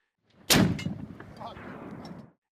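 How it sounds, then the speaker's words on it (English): A single loud, close shot from a Finnish 20mm Lahti L-39 anti-tank rifle firing armor-piercing rounds: a sharp, heavy blast followed by a long rumbling, echoing decay. "this absolute unit fired 20mm armor-piercing rounds"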